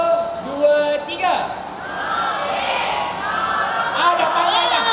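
A live audience of children and adults shouting a theme slogan together at a school oral health event, a loud crowd chant rising in bursts with cheering, mixed with a presenter's voice.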